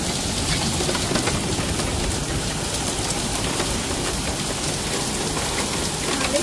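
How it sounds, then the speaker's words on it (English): Hailstones pelting down during a thunderstorm in Cheltenham, Gloucestershire, a dense, steady, loud hiss and patter of ice hitting surfaces throughout, with no talk. "Look at the size of them hailstones."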